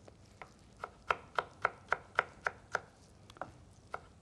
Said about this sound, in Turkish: Bunları aynı şekilde ufak ufak doğradık.